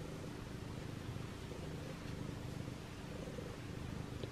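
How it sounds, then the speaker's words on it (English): A house cat purrs steadily and softly up close, a continuous low rumbling drone that runs throughout with no talking. "purring so loud"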